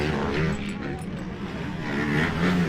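A new dirt bike's engine runs loud and close, its rough motor note swelling and easing over a few seconds while a person talks over it.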